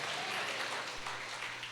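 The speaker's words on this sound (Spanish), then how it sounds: "Vamos, dale un aplauso a Dios." A church congregation applauds for God in a Spanish-language service, a steady dense wash of clapping held at an even level throughout, with no talk over it.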